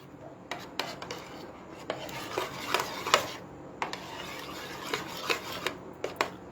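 Amul sour yogurt whisked by hand in a bowl before chopped cucumber goes in: scraping, rubbing strokes with light utensil clinks in an uneven rhythm, close and moderately quiet.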